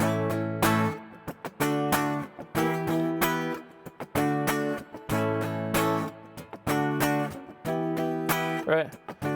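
The chord progression, a 1-4-5 in Mixolydian with a minor five chord, played as steady repeated chord stabs in a rhythmic pattern, loud and sustained, no voices.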